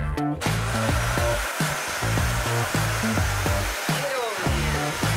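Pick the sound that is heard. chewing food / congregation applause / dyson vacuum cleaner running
dyson vacuum cleaner running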